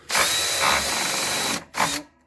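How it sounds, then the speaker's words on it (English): A power drill bores through a part during restoration of a Leslie Model 25 speaker, a loud close whine running steadily for over a second, stopping, then one short burst. "I'm going to back this one out real quick just so I can drill it out the rest of the way"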